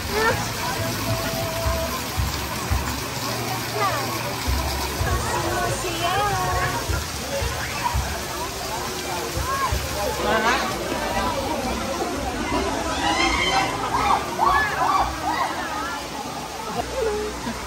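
A waterfall rushes in a steady broadband roar throughout, with excited voices and cheers heard over the water.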